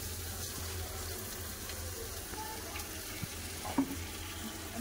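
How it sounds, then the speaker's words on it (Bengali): A masala of ground onion, ginger and garlic with cashew paste fries in a pan for a yogurt rohu fish curry, giving a steady close sizzle broken by occasional stirring knocks. "এটা কষা হচ্ছে, মশলাটা কষা হচ্ছে।"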